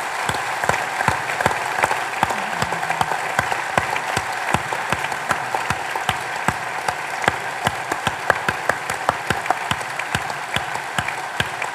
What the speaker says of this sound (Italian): Allora Vincenzo, Antonio e Giuseppe, stasera li ricordiamo tutti con un applauso